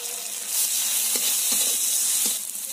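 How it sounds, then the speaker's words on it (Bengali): Onion and garlic paste frying in a pan for a fish dish, a steady close sizzle with a few soft stirring scrapes and clinks, no voices. "রসুন দিয়ে একটু ভাজা ভাজা হয়ে গেছে"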